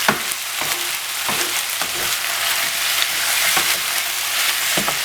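Meat sizzles steadily in a hot pan for rice with homemade chilli, with a dense continuous crackle broken by regular scrapes and knocks as it is stirred; no voices.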